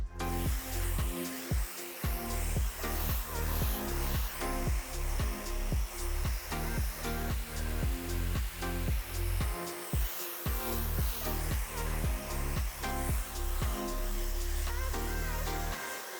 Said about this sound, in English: Another thing you can do too is work the dryer side to side on the section.